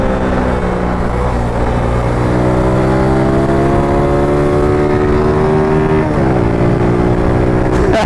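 A Suzuki Axelo 125 RR, a 125 cc scooter with a manual gearbox, is ridden close up in town; its engine hum climbs steadily in pitch, dips at a gear change, then rises again under wind noise.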